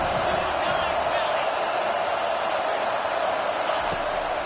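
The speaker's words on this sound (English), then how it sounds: "Decibels rising as the crowd gets behind this defense on 3rd down." A stadium crowd at a college football game between Arizona State and TCU roars steadily and loudly behind the defense on third down, a dense, sustained wall of cheering with no breaks.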